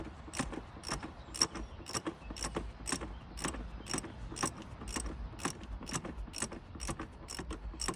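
A plastic oil filter housing being screwed onto its threads, giving a steady, evenly spaced ratcheting click roughly twice a second, close and fairly quiet.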